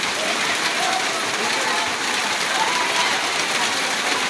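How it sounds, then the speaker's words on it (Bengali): Heavy monsoon rain pours onto a waterlogged school field, a dense, even hiss of drops hitting water and ground that stays loud and unbroken from start to finish. "স্কুলে স্কুলে প্রচুর বৃষ্টি হইতেছে দেখেন"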